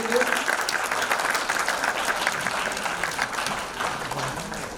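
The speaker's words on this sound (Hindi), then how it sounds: "ताली बजाएं आचार्य जी के लिए।" Loud, sustained audience applause at a devotional musical meditation gathering at the Punjabi Bagh Club. The clapping is dense and steady throughout, with a faint voice beneath it.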